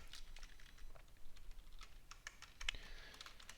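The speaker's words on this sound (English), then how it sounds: "let me type the rest" Close, quick clicking of keys on a computer keyboard, in uneven bursts of taps with brief pauses and no voices.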